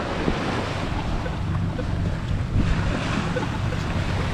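Sea waves wash up on a New York City beach as a continuous broad surf roar, close and steady, mixed with gusting wind buffeting the microphone and no talking.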